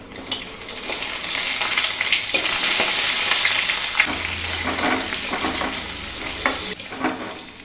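Sliced onion fries in hot oil for a tempering, alongside mustard seeds, curry leaves and dried red chillies, giving a loud continuous sizzle with scraping stirs and crackles close by and no voices.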